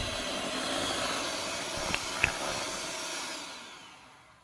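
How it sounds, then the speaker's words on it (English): An electric hand mixer whips pumpkin frosting with a steady, loud whirring drone, a couple of brief clicks near the middle, then fades as it slows and stops. "give it a final quick mixing just to fluff it up again with the hand mixer"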